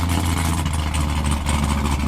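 A Corvette Z06 running on E85 fuel gives a loud, close, continuous low engine rumble with a steady idle-like throb and no pauses.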